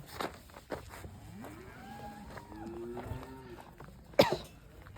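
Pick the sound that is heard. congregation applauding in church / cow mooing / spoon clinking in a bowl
cow mooing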